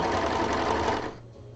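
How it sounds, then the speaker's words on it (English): An overlocker sewing machine runs in a steady, close, loud whirring burst for about a second, then cuts off, leaving quiet room tone. "While I overlock this monstrosity."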